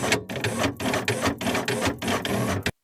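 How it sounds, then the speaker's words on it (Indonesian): An office printer feeds out a single sheet, giving a steady mechanical whir broken by regular short pauses, roughly every half second, close and moderately loud with no talk. "printer itu ngeluarin satu lembar kertas lagi"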